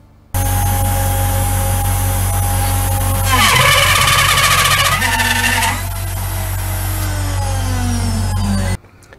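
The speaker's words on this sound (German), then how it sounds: "als der Fräser das erste Mal das Material berührt hat" A CNC milling cutter machines aluminium (ALCUPB) over a constant motor hum, breaking into a loud, harsh, screeching cut for a couple of seconds before settling back to a steadier tone and stopping.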